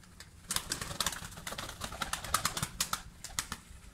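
Pigeons in a coop flapping their wings in quick repeated bursts, with some soft cooing among them, fairly close.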